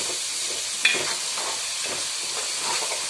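Yogurt frying in fish curry gravy gives a steady, close hiss of sizzling with soft stirring textures and one brief sharp clink, no talking.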